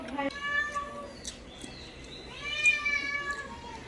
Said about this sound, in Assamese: মেকুৰীজনী আহিছে, ৰ'ব তাইকো দিওঁ অকণমান।